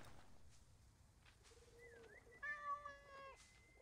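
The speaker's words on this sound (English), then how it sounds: "He will pet the cats." Cats in the video game Assassin's Creed Origins meow softly over a quiet ambient background, a short rising call followed by a longer, clearer meow near the end.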